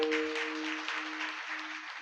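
An audience gathered at a devotional kirtan gathering at a math claps together in a steady, dense burst of applause lasting a couple of seconds, moderately loud, over a faint sustained tone.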